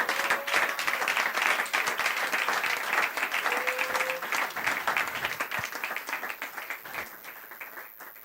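A church congregation applauds in a sustained, dense burst of clapping that stays loud, then tapers slightly toward the end.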